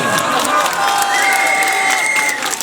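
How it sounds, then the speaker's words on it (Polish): A crowd shouts, yells and whistles loudly during a political speech, with a dense roar and shrill sustained whistles carrying straight through the short stretch. "Te wrzaski, te krzyki, te gwizdy stanowią świetne tło."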